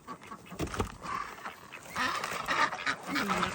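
Ducks quack repeatedly outside in deep snow with a rough, irregular chorus of honking calls. The calls are fairly faint and overlap with low background rustle.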